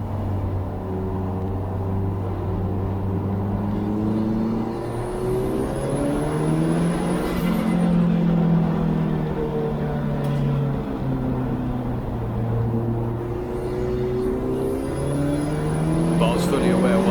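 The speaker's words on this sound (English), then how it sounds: "You're going to see Steve in his Anglia thundering around the outside of me." A Ford Anglia race car laps Brands Hatch on a wet track, its engine note rising and falling in repeated sweeps as it accelerates and shifts, loud and continuous alongside other engine noise.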